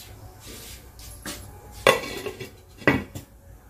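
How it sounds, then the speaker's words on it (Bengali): A metal lid goes onto a cooking pot of Bengali fish curry with two sharp clanks about a second apart. Softer kitchen clatter comes before and between them. "এবার আমি ঢাকা দিয়ে দিচ্ছি।"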